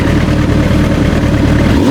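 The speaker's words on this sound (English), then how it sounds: "a fantastic QUILL exhaust which sounds amazing" A 2011 Kawasaki Ninja ZX-10R with a Quill exhaust idles loudly and steadily, its deep, throbbing engine note running continuously close by.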